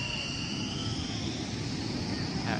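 An Indonesian Air Force Hercules turboprop runs its engines at an airbase air show, a steady, fairly distant broadband roar with a thin whine on top.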